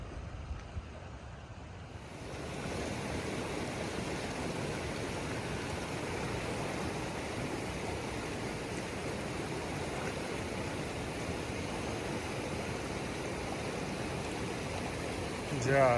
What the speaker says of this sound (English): We are approaching this river crossing that's supposed to be the wildest one we'll cross